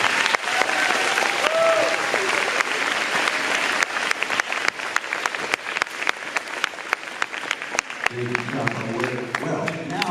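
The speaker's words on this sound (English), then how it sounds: "So let's get a round of applause first for them." An assembly audience claps for veterans, a full round of steady applause that builds and then thins into scattered claps, with voices starting to talk near the end.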